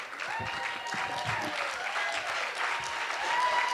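A storytelling-slam audience in Denver applauds as the next storyteller takes the stage. The clapping is a sustained, moderately distant crowd sound, with faint voices mingled beneath it.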